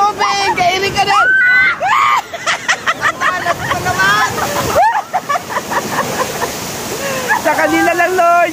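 Water splashing and sloshing on an amusement park water ride, a loud rushing wash under constant excited shouting and screaming from riders, with brief bursts of heavier spray throughout.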